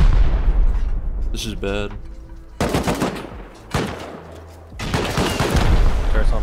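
Gunfire in the video game Rust, with bursts of rapid automatic shots coming in several loud, close volleys, broken by short pauses and a brief spoken line.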